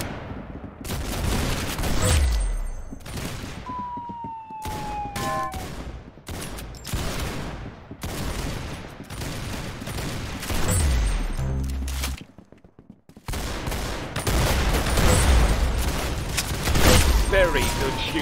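Rapid bursts of gunfire from the Roblox shooter game Arsenal, dense fusillades of automatic shots and single cracks repeating across the whole stretch, loud and close with brief pauses between volleys.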